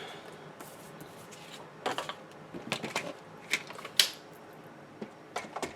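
Paper notebook cover being trimmed, a scattered run of soft close-up scraping and crisp cutting sounds, growing denser in the middle, no talking.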